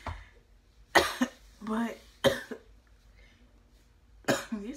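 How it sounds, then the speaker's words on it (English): Several sharp, close coughs come in separate bursts, mixed with brief spoken words between them in a quiet room. "something got me coughing or something"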